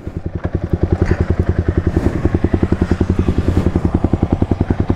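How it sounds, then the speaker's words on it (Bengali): Motorcycle fitted with a new Leo Vince Cobra exhaust, a loud close idle with a fast, even, throbbing pulse that stays steady throughout. "She amar bike er new exhaust."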